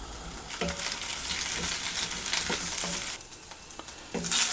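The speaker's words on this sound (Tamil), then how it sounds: "அதில் இந்த வெண்டைக்காவை கட் பண்ணி வச்சுருக்கிறேன், நல்லா வணக்கி எடுத்துக்கலாம்" Cut okra sizzles steadily in hot oil in a pan, a continuous crackling fry with occasional stir clatter from a spoon, close and moderately loud, no talk.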